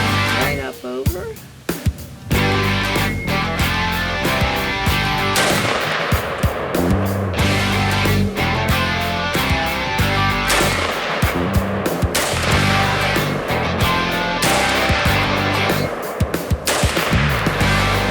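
AR-15 rifle shots fired outdoors, loud and close, in repeated sharp blasts with rapid clusters across a sustained barrage, interrupted by mechanical handling noise.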